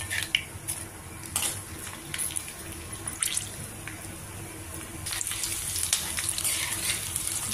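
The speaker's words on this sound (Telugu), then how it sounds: "ఈ పొట్టు తీసినవి ఇప్పుడు ఇందులో ఈ వేడి నూనెలో కొన్ని వేస్తున్నాను" Peeled garlic cloves fry in hot oil for a gongura chutney tempering, giving a busy crackling sizzle with scattered pops and spatters, fairly close and continuous.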